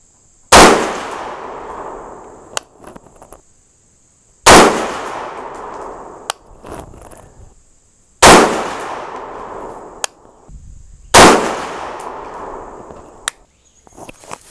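Four loud, sharp reports from a 6.5 Grendel rifle firing 123-grain bullets at a target, evenly spaced a few seconds apart, each with a long echoing tail and a brief metallic ring or click following.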